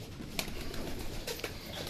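Racing pigeons coo softly in a couple of faint, brief calls against steady background noise.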